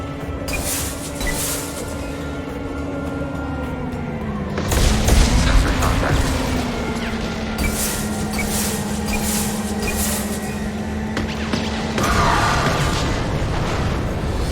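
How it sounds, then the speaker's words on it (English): Rocket launcher blasts and explosions in Mass Effect 2, a loud continuous barrage of booms over a steady hum, with a heavier burst around the middle and another near the end. "As soon as I realized the rocket launcher just kept firing when you hold down the trigger, life's problems got a lot easier."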